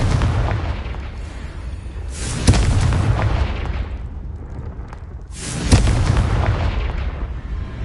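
Confringo blasting spells explode in the Hogwarts Legacy video game, two loud booming blasts with broad rumbling tails, each swelling up and then fading, with a steady low roar continuing between them.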